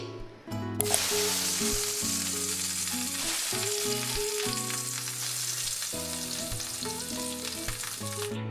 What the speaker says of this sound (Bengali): এবার আমি মাছগুলোকে ভেজে নিচ্ছি